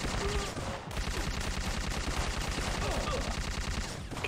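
Rapid automatic gunfire in Syphon Filter rattles continuously at close range, dense and loud with a brief gap near the start.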